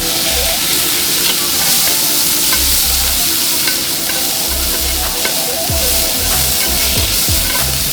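Onion fries in a greasy Korean barbecue pan at a Seoul beef restaurant, a loud close continuous sizzle with occasional scraping and stirring sounds.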